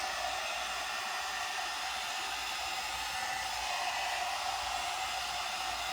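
A One Step hot air brush blows a steady, loud whoosh of air while drying and straightening hair, a constant motor hum and rushing airflow with no pauses and no talking.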